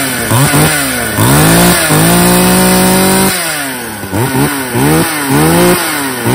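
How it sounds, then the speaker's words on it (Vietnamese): A Shindaiwa 488 chainsaw engine runs loud and close, with a long steady high idle between repeated sharp revs that rise and fall in quick bursts. "Tiếng nổ rất là mướt nha anh em ha."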